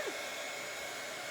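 A hair dryer blows on a dog during grooming, a steady loud whirring rush that holds constant throughout, close by and with no talking.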